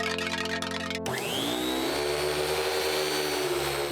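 A loud vacuum cleaner motor whines up and runs steadily, with a droning hum and a high-pitched tonal whine throughout.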